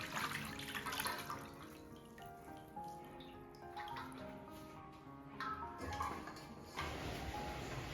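Water runs and trickles from freshly washed green beans draining after rinsing, a faint, steady splashing with scattered drips in a quiet kitchen.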